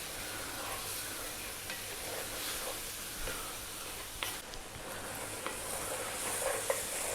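Tomatoes stew and sizzle in a pot for a South African lamb and potato bredie, a steady soft frying hiss with occasional small pops and stirring clicks, close and alone with no talking.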